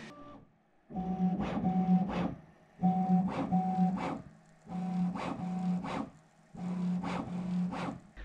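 A Bambu Lab P1S 3D printer runs its calibration routine, giving repeated bursts of motor whine and rattling movement, each a couple of seconds long with short quiet gaps between, steady and moderately close.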